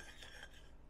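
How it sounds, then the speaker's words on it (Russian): Vinegar stirred into slightly cooled pickling brine for pickled eggs, a spoon scraping and clinking against the container in a quick, steady close-up swirl lasting under a second, with no voices. "Размешиваем."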